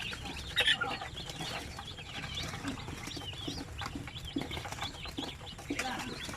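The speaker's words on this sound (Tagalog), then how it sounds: "Kumbaga survival yung ating mga native chicken." Native chickens cluck and murmur softly in a coop, several birds overlapping at a moderate distance over a steady low background hum.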